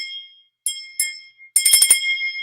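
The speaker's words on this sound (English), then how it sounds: "Look, mom, I'm ringing your bell." A delicate glass bell rings with a few separate chimes, then shakes quickly in a bright, close jingle that rings on.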